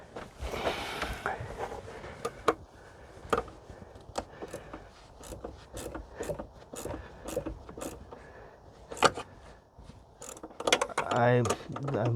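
A ratchet wrench turns a terminal bolt on the 12-volt battery of a 2013-2018 Ford C-Max, with scattered close metallic clicks and clanks, a few sharper knocks, and faint background noise.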